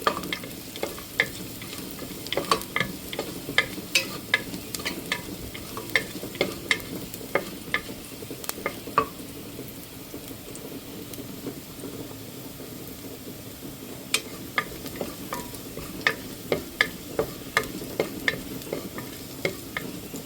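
Garlic sautés in hot oil in a pan for braised pork, a soft continuous sizzle broken by frequent sharp taps and scrapes of a spatula stirring, close up, with no talking.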